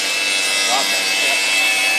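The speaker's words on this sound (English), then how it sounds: "crews were there, digging and sawing a hole in the pipe for the cat to come out" Fire crews saw a hole in a pipe to free a trapped cat, a continuous harsh rasping cut that runs steadily and loud throughout without a break.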